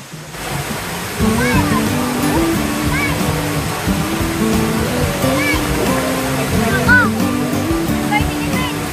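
Pinsal Falls in Santa Maria, Ilocos Sur, pours as a loud, continuous roar of falling water, with voices talking over it nearby.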